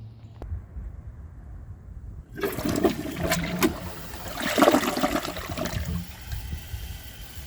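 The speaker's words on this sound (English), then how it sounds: "let's give this a flush and see how it does on tests." A 2018 Delta Turner toilet flushes with a strong siphon jet, starting abruptly with a loud rushing surge of water that swirls and gurgles for several seconds before easing into a refill trickle.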